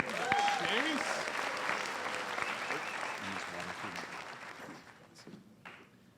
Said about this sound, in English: A nice round of applause for your student speaker